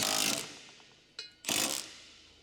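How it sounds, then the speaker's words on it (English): Electric impact wrench with a 13mm deep socket driving drive shaft support bearing mounting bolts on a 2011 Ford Explorer 3.5L, heard as two loud close bursts of rattling hammering with a quieter short burst between them. "Use a large-size 13mm deep socket with an electric impact wrench to tighten the support bearing mounting"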